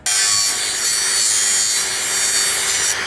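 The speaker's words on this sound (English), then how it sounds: "what a big job to cut all this steel" Steel for a tiny home trailer frame is being cut, producing a loud, steady, close-up metallic grinding hiss that runs unbroken for the whole stretch.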